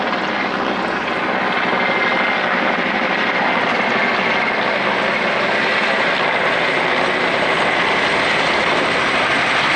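A helicopter flies over during an Indian Air Force Day air show, seen from a balcony in Raj Nagar Extension, Ghaziabad. Its steady, loud rotor and engine roar fills the whole stretch without a break and without voices.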